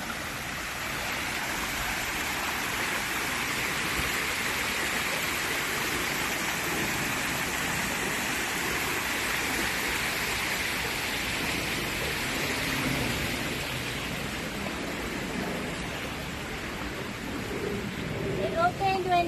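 Steady broadband rush of a waterfall in a rose garden, continuous and fairly loud throughout, with faint voices in the background.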